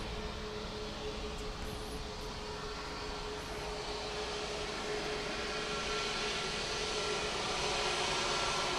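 A Cayman Airways jet, flight 202, departs Grand Cayman's airport with a steady, broad engine roar that swells slightly toward the end, heard from a distance with no voices.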